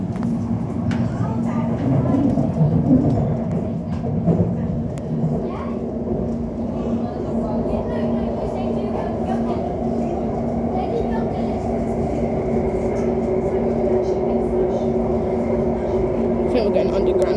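A new Elizabeth line train runs between Woolwich and Abbey Wood, a steady low rumble and hum of the carriage in motion that stays constant throughout, heard from inside the train.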